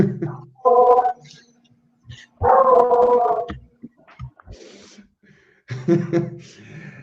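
A dog lets out several separate howls, yips and whimpering barks in uneven bursts with short pauses between them, sounding close and distressed.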